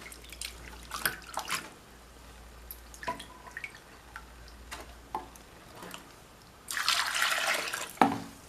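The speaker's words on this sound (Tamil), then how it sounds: "பச்சை தண்ணியில் ஊற வச்சு இது மாதிரி சுத்தம் பண்ணிக்கலாம்." Soaked dried prawns being washed by hand in water, with intermittent drips, small splashes and clicks, then a longer burst of sloshing near the end, close and moderately quiet.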